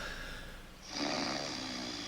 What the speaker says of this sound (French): Tu continues de ronfler, regarde comme c'est bizarre.